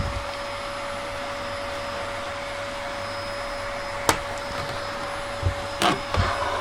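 A Hoover H Upright 500 vacuum cleaner runs steadily indoors in a house, giving off a constant loud whine and whir. Near the end a few knocks and bumps come through.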